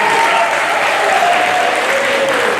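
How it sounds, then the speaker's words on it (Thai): Dense, steady applause from a large audience at a Thai municipal event, honoring Dr. Anurak Tangpanithanon for a project agreement between TPI Polene and Mukdahan municipality; continuous and fairly loud throughout. "ผมใครขออนุญาตให้ทุกท่านปรบมือให้กับท่าน ดรอนุรักษ์ตั้งปณิธานนท์ครับ"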